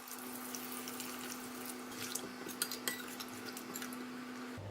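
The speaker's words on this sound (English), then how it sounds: "Add on a bit of water." Water runs steadily from a kitchen tap into a pot of Thai chicken panang curry, a constant faint splashing stream with light metallic clinks and drips, and no voices.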